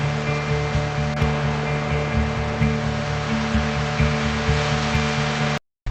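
Pacific Ocean surf pounds a remote beach on the King Range coastline, a loud, steady wash of broadband roar with faint rhythmic surges, cutting out abruptly at the very end.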